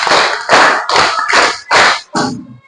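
A classroom of pupils claps a counted pattern in five loud, close bursts of group clapping, each a dense cluster of hand claps, the last burst shorter and followed by a brief low thud.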